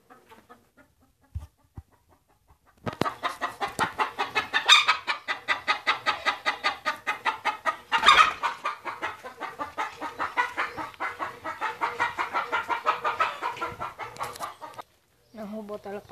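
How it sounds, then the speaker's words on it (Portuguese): White hen clucking in rapid, regular bursts near her nest while laying an egg, a long close run of repeated clucks with a brief louder squawk midway and faint background noise. "Aqui a galinha branca está botando ovo."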